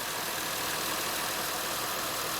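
A 2006 Honda Odyssey engine idles steadily, a dense even mechanical hum and whir with no variation, heard close up with no one talking.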